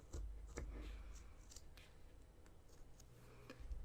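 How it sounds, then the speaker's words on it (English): Scissors snipping through fabric while cutting out a custom patch, with a series of soft, close snips and blade clicks at an irregular pace over a faint background hum. "I've cut the patch out"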